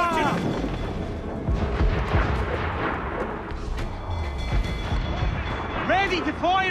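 Naval cannons fire in a sea battle in Assassin's Creed IV: Black Flag, with heavy booms and rumbling blasts layered over shouting voices and continuous loud battle noise.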